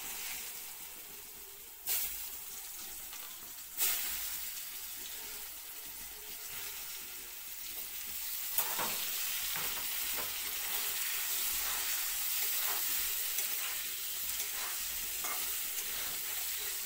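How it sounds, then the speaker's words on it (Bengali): Thinly sliced potatoes with salt and turmeric fry steadily in hot oil, giving a continuous close sizzle and hiss, broken by a few sharp clatters of a utensil against the pan. "এবার আলুগুলো ভাজা করা হইবে সুন্দর করে"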